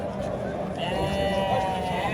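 A goat bleats in a drawn-out wavering call, heard close by over a murmur of background voices at a Tashkent livestock market.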